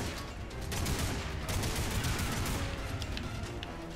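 Enemy gunfire in Lost Planet 3, a dense, continuous barrage of shots and impacts that stays loud throughout, with no talking.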